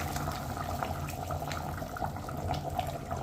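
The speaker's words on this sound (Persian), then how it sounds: "در داخلش آب جوش بریزیم" Boiling water is poured into a pot holding browned lemon, a continuous splashing, bubbling stream close by that lasts throughout.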